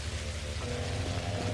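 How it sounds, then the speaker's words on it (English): Rain in the Pathologic Classic HD video game hisses as a dense, steady wash under grey skies. A low tonal drone runs through it and no one speaks. "The skies turn completely grey and the rain falls down."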